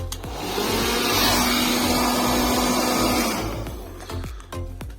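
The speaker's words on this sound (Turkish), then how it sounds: "Fön makinesini taktık." Handheld hair dryer plugged into a freshly repaired wall socket, its steady loud whirring motor running for a few seconds before switching off and winding down, followed by faint clicks.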